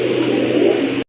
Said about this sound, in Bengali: অনেক সুন্দর একটা নর কবুতর, ব্ল্যাক গোল্ড আর্ট চেঞ্জেলের বিগ সাইজের একটা নর